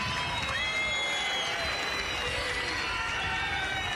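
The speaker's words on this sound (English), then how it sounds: "Big cheer." A large crowd cheers and whoops steadily at the opening ceremony of WRC Rally Chile Bio Bío 2023, a dense, continuous roar with voices mixed in.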